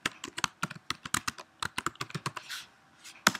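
Keys on a computer keyboard are struck in quick bursts while a username and password are typed at a login screen. The clicks are close and crisp, ending in one firm press.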